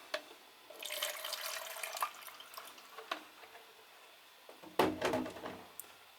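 Fresh water for watercolor painting splashes and trickles, with brushes rinsed and stirred in a water container, giving intermittent close swishes and drips and a louder burst of sloshing near the end.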